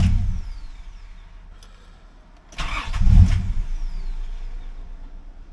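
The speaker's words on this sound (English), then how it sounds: "it would just kind of start and then stall immediately" A 2003 Nissan Pathfinder with fuel sending unit and evap faults idles roughly and fades out, then its engine cranks and catches with a short rough surge before settling into a wavering, uneven run, heard close by.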